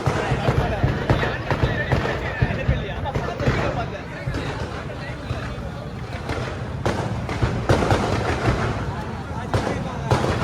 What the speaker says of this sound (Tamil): உள்ள தீபாவளி வெடி.